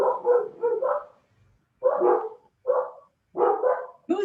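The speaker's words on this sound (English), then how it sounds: "Who's barking?" A dog barks in short bursts, several quick yips followed by a pause and then three more separate barks, moderately close.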